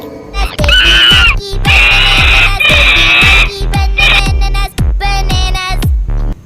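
A monkey screeches in loud, repeated shrill calls in bursts, over steady rhythmic thumping music.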